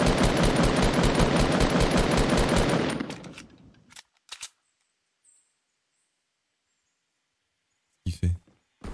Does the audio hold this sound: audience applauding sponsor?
no